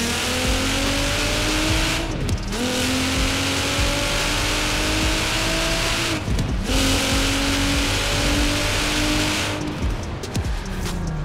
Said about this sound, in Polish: Ten GTR jest, myślę, że jednym z takich niewielu samochodów, które naprawdę brzmią w tej grze bardzo ładnie